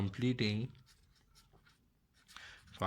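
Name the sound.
writing on a board or paper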